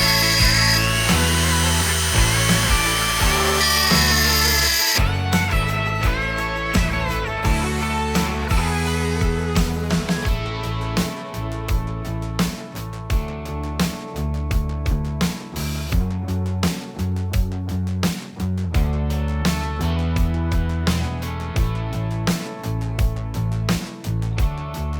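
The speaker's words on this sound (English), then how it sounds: "I've got a diamond bit on here to grind it with" A Dremel with a diamond bit grinds a metal part in a garage while a car is being prepared for a dyno run, holding a loud sustained whine with rhythmic surges and dips throughout.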